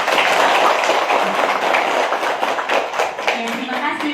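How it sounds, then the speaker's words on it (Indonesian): Schoolchildren at an elementary school clap their hands together in a dense, loud burst of steady applause that continues throughout, with voices mixed in. "Tepuk tangan dulu, Kak."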